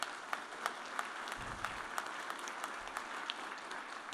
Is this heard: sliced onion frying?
no